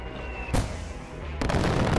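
Gunfire in the video game Far Cry 4: two sharp, loud shots about a second apart, each a broad crack, over steady background noise.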